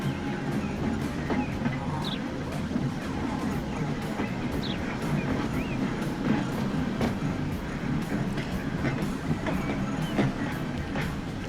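A tram runs steadily in a commuter video game, a continuous low rumble with faint rattling and occasional squeaks, rolling on at an even level with no talk.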